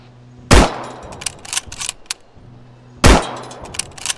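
Gunfire in Arma 3 cracks out loud and close, two sharp reports spaced a few seconds apart, with fainter clanking and shot echoes scattered between them.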